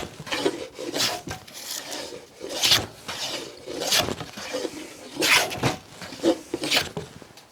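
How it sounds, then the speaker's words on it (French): A Dictum No. 62 low-angle hand plane takes fine wood shavings in repeated rasping strokes, each swish close and clear, about six passes in steady rhythm. "j'ai commencé à raboter ma cale ici"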